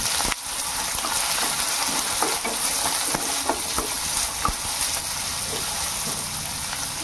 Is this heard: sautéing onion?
yes